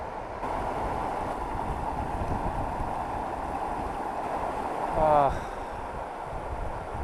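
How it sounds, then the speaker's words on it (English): Roaring Dolomite River at a wilderness crossing point, a steady broadband rush of fast water held loud and constant throughout, with wind buffeting the microphone and a brief louder swell near the end. "right now I can hear roaring river noises"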